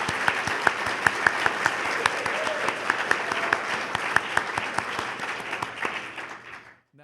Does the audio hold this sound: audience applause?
yes